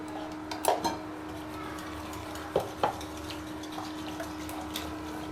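A whisk works chutney paste into a dahi bhalla (dahi bade) mixture, giving a few soft, scattered clinks and scrapes against the bowl that are fairly faint over a steady background hum, with no talking.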